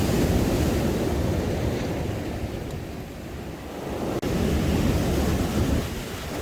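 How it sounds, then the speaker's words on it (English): Irish Sea waves surging over the promenade steps at Blackpool, a continuous loud roar of surf and wash with buffeting wind noise on the microphone, no voices. "There's some more views for you here of these waves now, in full command of this area of the steps that lead to the promenade"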